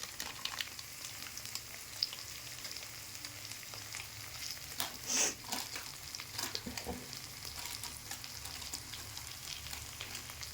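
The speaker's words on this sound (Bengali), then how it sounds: "সব মশলাপাতি ভালোভাবে দিয়ে একটু মশলাগুলোকে হালকা হালকা করে ভেজে নেবে" Ground spices such as chili and turmeric gently frying in a pan, with a steady soft sizzle throughout and a few brief stirring scrapes, close and fairly quiet.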